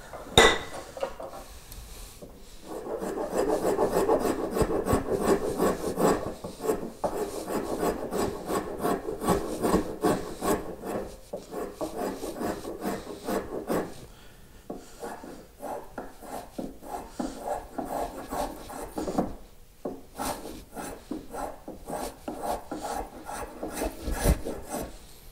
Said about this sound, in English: Then I go to this rasp.